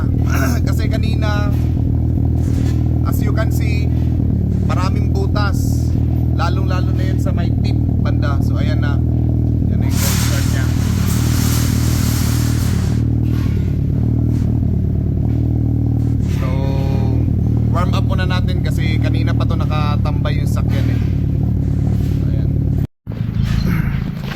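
A Honda FD car with a freshly repaired exhaust cold-starts and settles into a steady, deep rumbling idle. It is revved hard partway through, then drops back to idle, with a person speaking over the engine.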